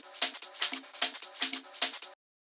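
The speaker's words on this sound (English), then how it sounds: "And underneath the perk loop, I put a shaker loop." A shaker loop sits under a percussion loop in a groovy trance production, with crisp, rhythmic bright bursts and layered hits repeating steadily for about two seconds before stopping abruptly.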